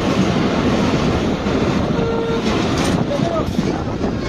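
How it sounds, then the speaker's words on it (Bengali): Passenger train on the Khulna to Mongla line running on rails as it slows near Katakhali station, a dense steady rumble of wheels and carriage noise close by, with faint squeals near the end. "তো ট্রেনটি কিন্তু আস্তে আস্তে স্লো হয়ে যাচ্ছে, হয়তো আমরা কাটাখালী যে রেল স্টেশন রয়েছে সেই রেল স্টেশনের কাছাকাছি চলে এসেছি।"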